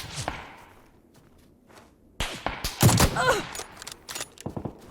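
Gunfire in PUBG, scattered sharp shots near and far, then a loud cluster of rapid close cracks and thumps, followed by further quick shots.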